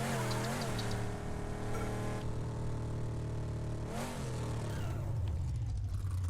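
Custom-built car in Lego 2K Drive video game, its engine revving loudly at a standstill, rising and falling in pitch with a steady rumbling drone throughout, near and continuous with no talk.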